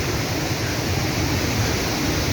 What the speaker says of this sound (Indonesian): biasanya kalau musim hujan itu air terjun itu bisa jadi coklat